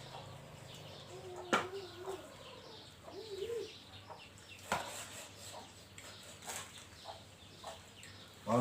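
Chickens at a Thai home kitchen give a few scattered clucks and short calls, fairly close, over a quiet background with small handling noises and occasional knocks.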